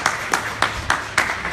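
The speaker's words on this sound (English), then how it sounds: "I think we should give him a big clap as well." Audience clapping at a ceremony in Ethiopia, heard as a few sharp bursts of claps at fairly regular intervals, moderately loud and close, with no talking over them.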